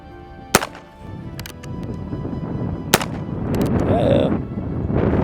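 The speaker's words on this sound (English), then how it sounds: "shooting on this, that concussion, even with a 22, is pretty insane" A Heritage Rough Rider Rancher .22 revolving rifle fires two sharp, loud gunshots about two seconds apart outdoors, with a voice talking faintly in between.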